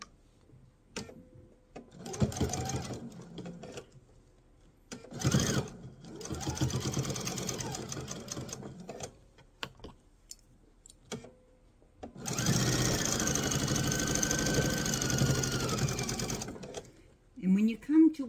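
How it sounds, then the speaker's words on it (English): A sewing machine stitches a mesh tote in separate runs: short bursts first, then a long steady whirring run, with a quick reverse to lock the seam and a voice talking in the pauses. "So I'm going to take a few stitches and then I'm going to reverse so I can secure this."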